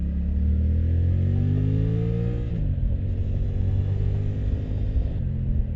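A Suzuki GSX-8R motorcycle engine drones heavily as it accelerates, revs rising steadily, then dropping briefly at a gear change before pulling again with a continuous rumbling note.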